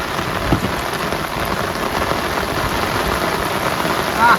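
Rain pours down at a river landing in the Sundarbans, a steady, loud, close patter of drops on surfaces with no one speaking.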